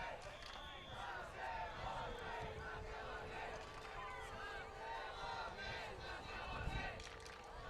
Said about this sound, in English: A lot of cheers from the crowd as the movers trying to start things off.